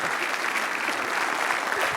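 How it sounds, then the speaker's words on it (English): An audience claps loudly and steadily for a guest speaker at a talk, a dense, continuous wash of applause that fills the whole moment. "you can give him a big hand clap"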